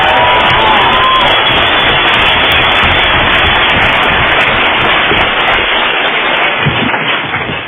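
An audience at a Narcotics Anonymous speaker meeting clapping and cheering, a dense, loud wash of applause with whoops that keeps going and tapers slightly at the end.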